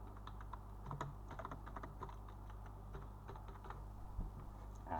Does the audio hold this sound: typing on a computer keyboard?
yes